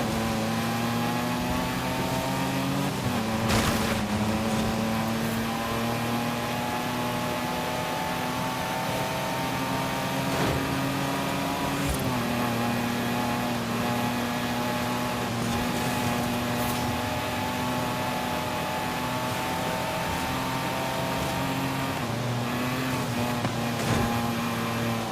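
Racing car engine in Forza Horizon 5 during a race, a sustained loud droning engine note holding steady pitch with brief dips at gear changes, continuous throughout with no talk.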